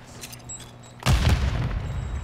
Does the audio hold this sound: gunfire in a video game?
yes